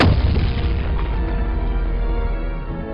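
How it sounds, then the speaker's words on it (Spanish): A ceremonial artillery cannon fires in San Fernando, Cádiz, one deep booming blast that rumbles and slowly decays over a few seconds, loud and close with no talking. "Y ahora, ¡fuego de artillería!"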